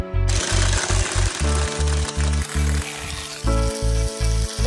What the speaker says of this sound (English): We mix them very well with the mixer.